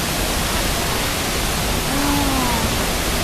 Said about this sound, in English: There's Jessica by the waterfall